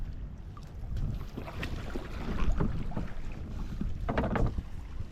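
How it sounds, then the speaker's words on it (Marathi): Oars splash and knock against a small wooden boat in an uneven rhythm while crabbing in a bay near Mumbai, with wind and water noise underneath and a louder cluster of strokes near the end. "होडी चालवतो आहे"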